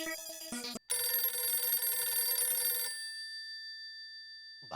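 Telephone ringing loudly and close: a rapid electronic warble that cuts off briefly, then one sustained ring that fades out into silence.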